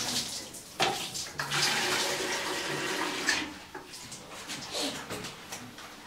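Water running for a bath, a steady broad rush that swells and drops in bursts, fairly close, with occasional splashes and muffled voices in the background.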